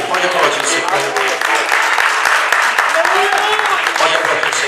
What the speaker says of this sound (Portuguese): Pode aplaudir o Senhor, Ele merece.